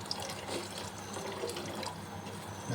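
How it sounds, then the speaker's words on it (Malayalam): Hot water runs steadily into a pot of curry, a continuous close pouring and splashing sound over the whole stretch with no speech. "ചൂടുവെള്ളം നമുക്ക് ആവശ്യത്തിന് ഒഴിച്ചു കൊടുക്കുക."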